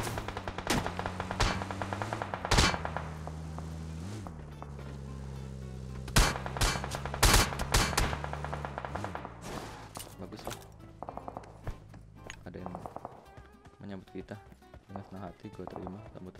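Gunfire while shooting at a bot in a video game: bursts of rapid shots and single sharp cracks scattered through the clip, mixed with in-game sounds, with talking around the shots.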